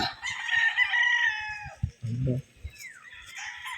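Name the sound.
young rooster (stag) crowing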